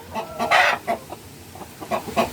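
A 10-month-old Rhode Island chicken clucks in short, close bursts, with a louder squawk near the start and a few quieter clucks after it.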